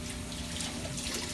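Tap water runs steadily while dishes are rinsed in a sink, a soft, continuous splashing stream close by with no voices.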